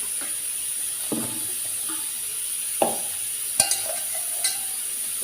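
Sliced raw plantain being tossed and mixed by hand with masala, rava and rice flour: a few soft, scattered scraping and clicking touches over a steady, faint background hiss, with no voices.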